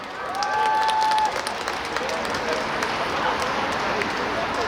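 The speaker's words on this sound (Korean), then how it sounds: "여러분 뜨거운 박수 부탁드립니다" A crowd claps for a rapper's set at an outdoor festival stage in a Seoul plaza, a broad steady wash of applause with voices cheering and talking mixed in.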